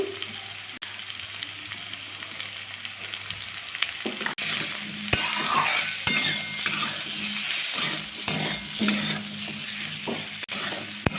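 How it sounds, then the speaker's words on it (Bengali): Continuous sizzling of potatoes stir-fried with salt, turmeric and sugar, punctuated by scraping and occasional metallic clinks of a spatula on the pan; no voices. "ভালো করে আমি কষিয়ে নেব নুন হলুদ দিয়ে দিয়ে দেবো একটু মিষ্টি চিনি"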